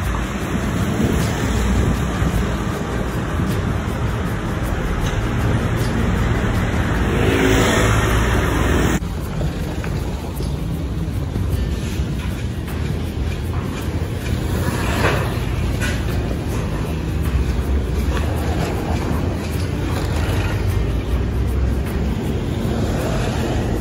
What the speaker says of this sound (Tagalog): Konti na lang mga sasakyan dumadaan dito.